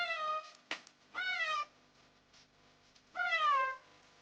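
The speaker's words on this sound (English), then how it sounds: "This is Cat." A farm cat meows three times, close and clear, with short gaps of near silence between the calls.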